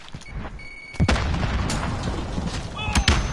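Grenade thrown and going off in a modern FPS shooter, a loud thump and boom around the one-second mark amid ongoing gunshots and further sharp blasts, with faint voices in the background.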